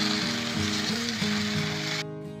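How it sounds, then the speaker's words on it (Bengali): Chopped ash gourd sizzles loudly in a pan with a bright, continuous frying hiss over a steady tonal hum, cutting off abruptly near the end. "এবার কেটে রাখা চাল কুমড়ো দিয়ে দিলাম। এবার সব কিছু খুব ভালো করে নেড়ে নেব।"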